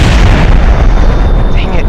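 Missiles fired in Kerbal Space Program land with a loud, dense roaring blast that fills the whole moment, heavy low rumble throughout and no pause between hits.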